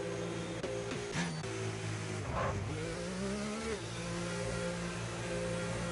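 Video-game race car engines in a pit lane at a Canada round whine and drone steadily, with a couple of cars passing nearby over a constant high engine tone.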